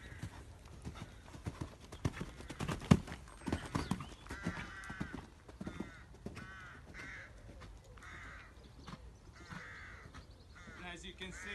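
Horse hooves clip-clop in a steady rhythm as a rider approaches a narrow barrel jump set between two wing uprights during show-jumping training, with a few crow caws and faint speech in the background.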